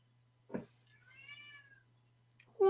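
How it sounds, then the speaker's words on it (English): A cat meows once in a drawn-out, wavering call at close range, preceded by a short thump and followed by a sharp sound at the end, with no talking. "Yeah, it's meowing."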